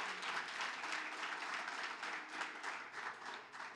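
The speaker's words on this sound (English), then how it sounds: "give the Lord a hand clap of praise" A church congregation claps in praise during an evangelistic service, a quick, continuous patter of hands at a soft, somewhat distant level with no speech over it.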